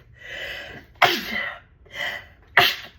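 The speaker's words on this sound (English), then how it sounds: "I had an urge to sneeze." Two sneezes, each preceded by a sharp indrawn breath, then an explosive burst, close and loud.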